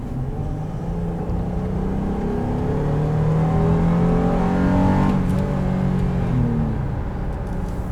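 A 2019 Honda Ridgeline RTL V6 with VTEC revs hard under acceleration, a loud, close engine note that climbs steadily in pitch, swells near the top as the second cam engages, then eases off after a shift.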